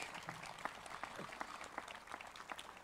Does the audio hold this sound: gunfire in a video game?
no